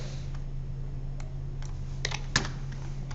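A few light keystrokes on a computer keyboard, soft and close, clustered near the end over a steady low hum.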